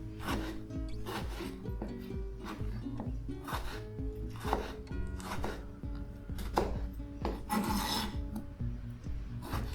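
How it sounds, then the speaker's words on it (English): Kitchen knife finely chopping cored tomatoes on a board: quick, rhythmic, fairly quiet taps and scrapes, heard alone at close range. "Just take a little piece of the cores out and try and chop them finely."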